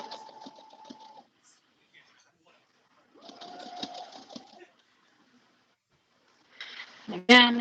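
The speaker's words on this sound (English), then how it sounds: "And I'm going to start sewing." Sewing machine stitching a narrow tunic seam in three short bursts of fast whirring, separated by quiet pauses, and a voice speaks at the very end.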